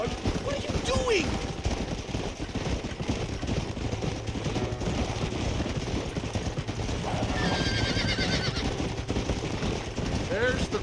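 A horse whinnies amid a busy Red Dead Redemption game mix of hoofbeats, distant gunfire and background voices, with another high neigh later on.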